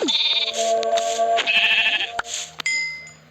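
Synthetic sheep bleats from a survival video game, several short wavering cries in a row with chime-like game sounds between them and no talking.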